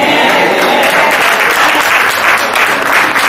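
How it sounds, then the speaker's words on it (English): Church congregation at Greater St James COGIC claps loudly in a sustained, dense roar of hands, steady and close for a few seconds with no speech over it. "clap your hands and bless the Lord"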